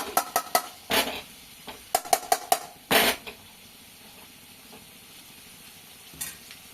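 Spatula stirring tomato and spice curry in a pan, a series of sharp scraping clicks and taps in bursts, with a low sizzle running beneath and a quieter stretch toward the end.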